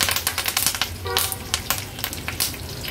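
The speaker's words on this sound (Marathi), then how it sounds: "फोडणीला आता कढीपत्त्याची पानं घालूया" Curry leaves dropped into three tablespoons of hot oil for tempering crackle and spit in quick, sharp bursts, a close, busy spluttering over a low sizzle.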